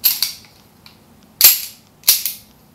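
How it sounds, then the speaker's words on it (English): Three sharp, loud shots from a WEM9 gas blowback BB pistol, each a crisp pop with a short metallic slide clack, spaced irregularly over a quiet background. "First, we start with the WEM9 gas blowback pistol."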